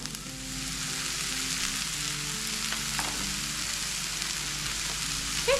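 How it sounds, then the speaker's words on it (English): Mushrooms, peppers and onions fry in bacon grease in a pan with a steady, even sizzle close by and faint scraping of stirring, with no talk. "I also have a few mushrooms I need to use up, so I'm going to put those in there as well. Put in a glob of bacon grease"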